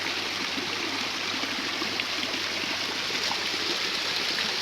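Steady rushing water from a trout stream and Güney Waterfall, a dense constant roar with no pauses and no voices.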